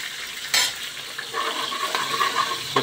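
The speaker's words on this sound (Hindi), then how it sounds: "हम इसमें डालना शुरू कर देते हैं देगी मिर्च, जिसे कहते हैं देगी मिर्च का तड़का" Deggi chili tadka frying with browned onions in a pot for a Himachali dham feast, a steady sizzle with sharp bursts as the spice hits the hot oil, near and loud, with stirring scrapes.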